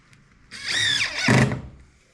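Power drill driving screws into standing seam metal roof panels on an A-frame cabin roof, one loud whining burst of about a second with a rising squeal and a thunk as the screw seats, close by.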